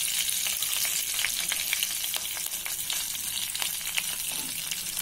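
Mustard seeds, cumin and green chilies fry in hot oil for an egg tomato curry, giving a close, steady sizzle dotted with quick crackling pops.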